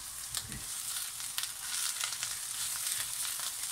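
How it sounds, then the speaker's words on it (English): Onion softens in hot oil in a pan, giving a steady close sizzle and crackle with a few scraping stirs, no talk. "we're just going to soften the onion"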